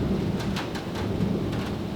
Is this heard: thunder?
yes